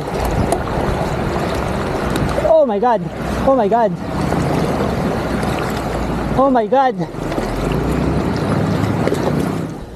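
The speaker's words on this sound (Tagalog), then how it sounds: "Uy, malakas pa rin yung tubig ah. Wow, ang lakas ng tubig." Strong river current rushes loudly and continuously as a gravel bike crosses a river during a 75 km ride, with an excited voice exclaiming repeatedly over the water.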